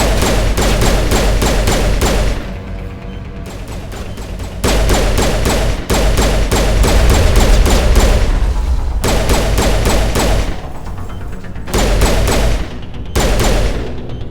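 Carnage weapon fired repeatedly by a Geth enemy in the Mass Effect video game: loud, dense bursts of heavy gunfire in several sustained volleys separated by brief lulls, with no talk.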